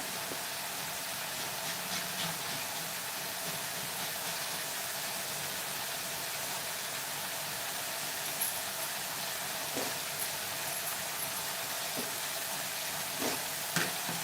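Ground masala paste with raw coriander roasts in a pan for bhendi masala, a faint, steady sizzle and hiss with occasional soft stirring clicks, continuous and close.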